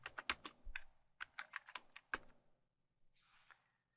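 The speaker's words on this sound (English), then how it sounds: "then I'm going to type my name in" Close, quiet keystrokes on a computer keyboard as a name is typed, an irregular burst of clicks that slows and fades into a soft final rustle.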